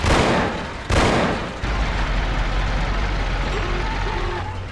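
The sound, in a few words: gunshots in Mafia video game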